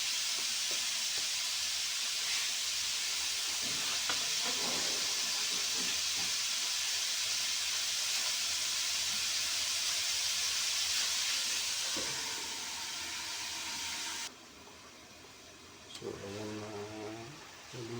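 Adobo cooking in a covered pan, a steady loud sizzling hiss that drops away near the end, followed by a few clinks of the lid or utensil.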